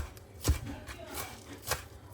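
A few knife chops through tomatoes and onions on a board, close and fairly soft, spaced out over a couple of seconds.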